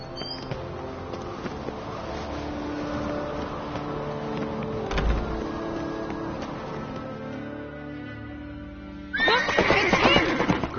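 A horse whinnies loudly near the end in a PS4 video game, over a continuous rumble of hooves and engine-like background noise with a thump midway.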